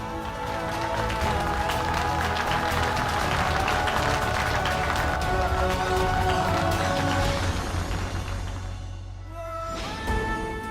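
Loud, dense applause from a crowd welcoming a man's wife onstage, sustained for several seconds with a steady roar before thinning out and fading near the end, with a few scattered claps and murmurs lingering.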